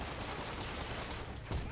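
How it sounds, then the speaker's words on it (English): Gunfire in the Spider-Man video game, a dense burst of many shots fired in quick succession, fairly loud and continuous across the moment with no talk over it. "That guy shot a lot of bullets."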